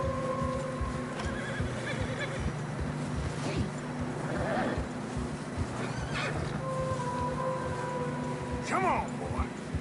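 Horses in the video game Red Dead Redemption 2 whinny a few times over steady clip-clopping hooves in fresh snow and a background hum.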